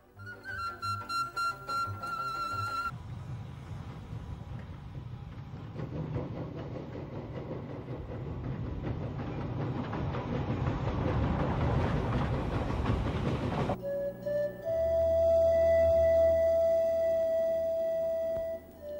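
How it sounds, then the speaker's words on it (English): A forest railway train on narrow-gauge track in Romania rumbles steadily, its clatter building over several seconds, framed by musical tones at the start and end. "We start with a visit to the forest railway of Kimbulcetazi."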